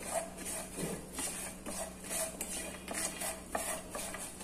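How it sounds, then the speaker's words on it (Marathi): Sliced almonds, pistachios, cashews and charoli being roasted in a pan, a spoon scraping and clinking against metal in a steady, soft rhythm with a faint sizzle underneath. "बदामाचे काप, पिस्ता आणि काजू। हे सगळं आपल्याला भाजून घ्यायचं आहे।"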